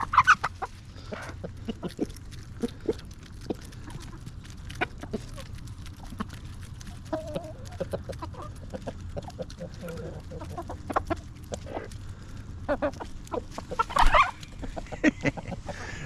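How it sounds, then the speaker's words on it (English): Backyard chickens and a rooster cluck and scratch around nearby on a rainy day, with frequent short clucks and pecking clicks and a louder burst of calls near the end. "There's my chicken."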